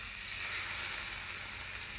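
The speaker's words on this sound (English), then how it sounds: "I'm going to start throwing the bacon in this pan." Bacon sizzling in a cast iron pan on an old wood stove in a shed, a steady, dense crackling hiss that stays loud and even throughout with no voices.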